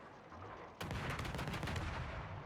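Warship guns fire in World of Warships at close range, a sudden loud blast after a quiet moment, followed by a rumbling, crackling roll of gunfire that stays heavy to the end.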